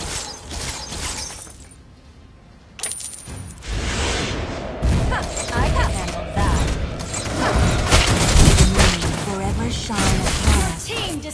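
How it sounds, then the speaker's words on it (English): A turret crumbles in Mobile Legends amid busy battle effects, with clanking mechanical crashes, shattering hits and thuds layered over continuous game noise. "Destroyed a turret!"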